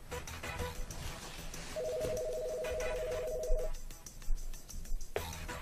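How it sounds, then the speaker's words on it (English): An office phone system keypad plays one steady dialing tone for about two seconds, with busy, low-level room sound and handling noise around it and no clear speech. "Dial 4 now to call my cell phone."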